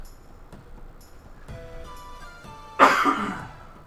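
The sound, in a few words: coughing from a cold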